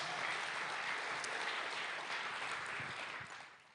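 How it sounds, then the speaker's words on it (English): A church youth audience applauds the praise band with steady, full clapping from many hands that holds evenly, then fades away at the end. "Give me a round of applause for the praise band."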